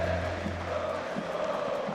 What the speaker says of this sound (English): And of course the crowd cheering